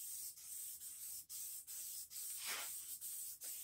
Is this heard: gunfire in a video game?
no